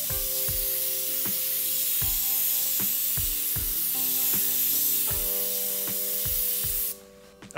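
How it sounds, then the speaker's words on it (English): An airbrush spraying paint onto dice, a loud steady hiss that runs nearly unbroken for several seconds against a backdrop of regular tonal beats, then cuts off abruptly near the end. "while I was spraying the sides of our dice, I was using more streak motions with the airbrush"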